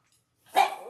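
A dog in a home kitchen gives a single sharp bark that starts about halfway through, close and fairly loud, following near silence.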